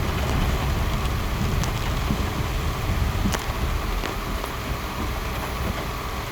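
Heavy monsoon rain falls on a street at KR Market, Bangalore, a dense, steady hiss of drops with occasional sharper splats, loud and continuous with no voices.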